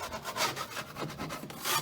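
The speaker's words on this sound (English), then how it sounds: "I'm just going to take my 6-inch knife and scrape any edges that I see that might be a little higher" A 6-inch drywall knife scraping raised edges off a dried joint-compound patch on a wall, a quiet rasping scrape in short repeated strokes, close and alone.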